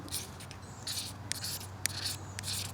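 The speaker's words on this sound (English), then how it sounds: "what you want to do is scrape off" A magnesium fire starter block is scraped into shavings outdoors, producing soft repeated raspy strokes in an even rhythm over a low background hum, close and fairly quiet.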